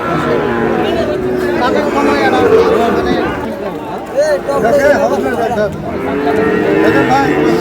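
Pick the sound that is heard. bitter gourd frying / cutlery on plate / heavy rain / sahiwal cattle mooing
sahiwal cattle mooing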